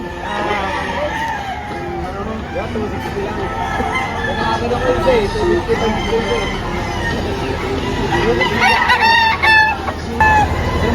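A sweater Kelso rooster crows amid other fowl at a busy poultry market in Lipa, Batangas, with clucking and crowd babble and people talking around it.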